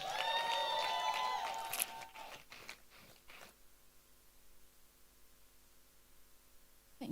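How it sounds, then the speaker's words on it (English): Audience at a live conference in Abuja claps and cheers loudly in a dense burst that thins into scattered claps, leaving a quiet room hum. "Keep clapping till she gets here."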